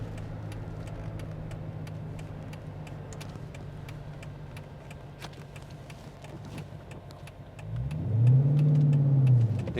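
The engine and exhaust of a 2010 Dodge Challenger R/T hum at a steady cruise, then swell into a loud, deep rumble as it accelerates near the end, heard from inside the car.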